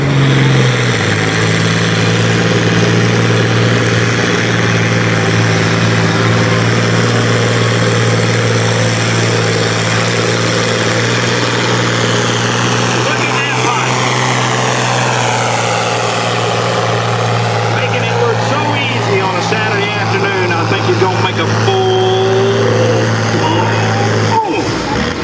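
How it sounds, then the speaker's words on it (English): A pulling tractor revs at a Saturday tractor pull in Pelion, a loud, steady heavy engine roar that holds for the whole stretch, its pitch sweeping up and then down midway, with faint announcer-style talk beneath. "We all revved up and ready to go."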